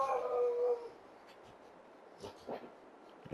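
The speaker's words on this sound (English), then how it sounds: "got dogs going crazy right now." Dogs on a farm howling in a brief sustained wail, then fading into faint scattered yips and movement noises that continue at a distance.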